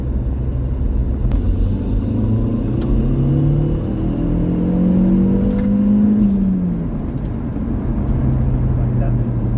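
Golf MK4 GTI with a turbocharged AGU engine, fitted with upgraded injectors and a larger MAF housing, pulls hard in third gear, a loud steady engine drone with rising tone heard from inside the car.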